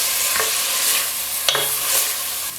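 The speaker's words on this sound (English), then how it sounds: "We need to lightly fry and golden brown the onions." Onions stir-frying in a pan, a loud, close, continuous sizzle with a few sharp scrapes of a spatula stirring, and no voices over it.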